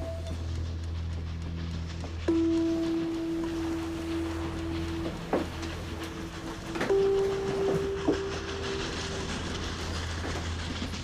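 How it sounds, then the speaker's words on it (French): Trains rolling through a Slovak town in 1944, a steady low rumble of wheels on rail with a couple of sharp clanks and long sustained tonal squeals from wheels or brakes, fairly close and continuous throughout. "Les trains qui emmènent les Juifs hongrois à Auschwitz traversent la ville slovaque où Rudolf Werba et Alfred Wetzler ont trouvé"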